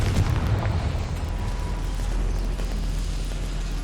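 A Confringo fire spell bursts in Hogwarts Legacy, a heavy booming explosion at the start that trails into a rumbling, crackling roar, loud and close, with no voices.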